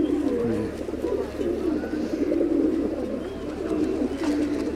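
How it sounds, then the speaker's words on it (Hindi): An Indian pigeon cooing close by, a soft low continuous warbling coo heard alone against a quiet background. "ये इंडियन पिजन है, काफ़ी खूबसूरत है।"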